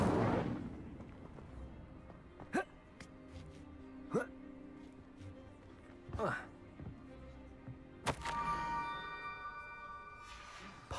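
An Incendio fire spell is cast repeatedly in Hogwarts Legacy: sharp whooshing bursts at intervals of about two seconds, the last one swelling into a longer ringing flare, over a quieter game background.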